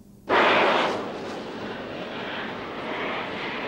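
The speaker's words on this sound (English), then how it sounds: "Israeli planes fly low over Sinai, cutting telephone wires." Israeli military planes fly low over the Sinai desert in 1956, their roar bursting in suddenly and loudly, then settling into a sustained, broad engine drone as they pass.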